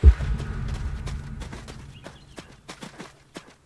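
Horse hooves clip-clop in the video game Adios, a series of close, distinct footfalls in an irregular walking rhythm after a brief low thump at the start.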